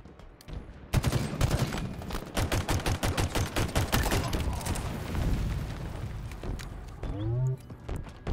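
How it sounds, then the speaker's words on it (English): Battle rifle fire in Halo Infinite, loud rhythmic bursts of sharp shots repeating for several seconds, followed by a short voice near the end. "They need to give you more ammo with this fucking battle rifle."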